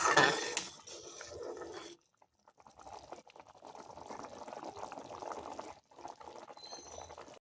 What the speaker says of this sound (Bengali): আলুটা সেদ্ধ হয়ে গেছে, তবু আর একটু জাল করে নেব আমি